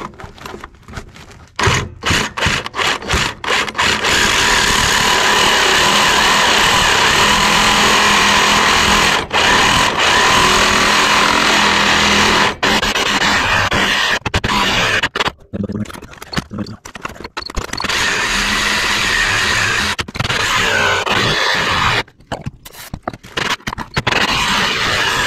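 A power tool grinds and cuts through a welded bolt on an old industrial diesel mower left in a junkyard, a loud continuous buzzing rasp broken by short pauses and restarts.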